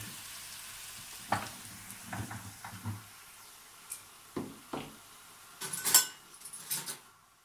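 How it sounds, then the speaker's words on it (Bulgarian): Flour and pepper are stirred into a frying winter soup base in a pan, with soft sizzling beneath intermittent scraping and clinks of a utensil against the pot. "Слагам брашно. Разбърквам го. Така, сега слагам и малко пипер."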